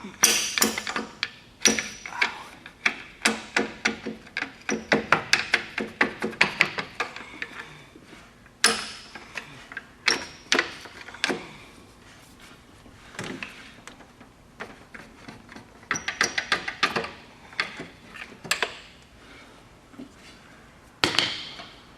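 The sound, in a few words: prying up a GMC Yukon power steering pump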